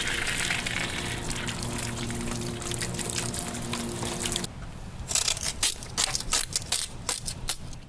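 Water gushes and splashes over a car headlight being rinsed during a restoration, a continuous close pour that cuts off midway, followed by irregular dripping, tapping and handling sounds.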